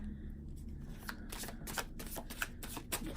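Tarot cards riffle and flick in a steady run of soft, close shuffling snaps during a reading, with no talking.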